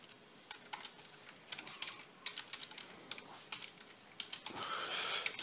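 A command being typed on a computer keyboard, with irregular clusters of light, close key clicks spread across several seconds and a brief denser flurry near the end, all quiet and without speech.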